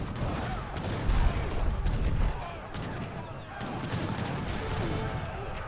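Heavy cannons firing in Age of Empires 3 amid a dense multiplayer battle, a continuous clatter of booms, crashes and gunfire mixed together, with faint speech underneath.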